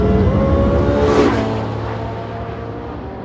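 A Porsche 918 Spyder hybrid hypercar under way, its engine giving a loud, close, harmonic drone that swells briefly and then eases into a steadier hum.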